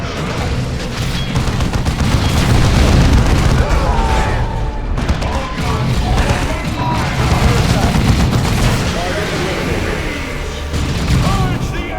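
Heavy automatic fire rages across a Warhammer 40,000: Dawn of War II battle, with booming bursts and explosions layered continuously and loudly, and voices calling out over the din.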